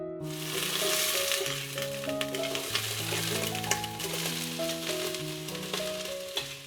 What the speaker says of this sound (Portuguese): Aí eu vou refogar esse frango com uma cebola, um tomate, um pouco de cebolinha, meio pimentão e 2 dentes de alho ralados